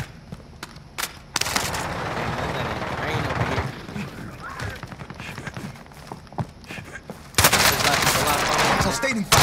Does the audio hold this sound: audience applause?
no